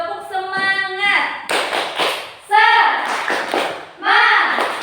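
Schoolchildren in a classroom chant and clap a rhythmic spirit clap, bursts of quick in-time claps from a group alternating with sung, chanted voices in a lively call-and-response pattern.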